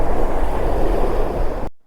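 Sea waves break hard on the shingle edge of Chalkwell Beach in the morning, a loud, steady roaring wash of surf with wind noise on the microphone, cut off abruptly with no talk.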